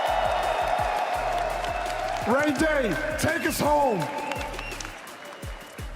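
Arena crowd at the ALGS Apex Legends esports LAN finals applauding and cheering continuously, loud and dense, with a commentator shouting over the noise.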